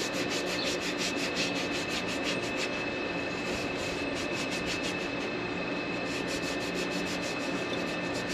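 An auger shaft on a grain bin auger being cleaned up by rubbing or sanding, a loud, continuous close abrasive scraping with a rapid back-and-forth rhythm and no talking.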